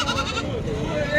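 A goat at a goat market in Washim, Maharashtra, gives a wavering, close bleat that runs through the whole moment, with talk going on at the same time.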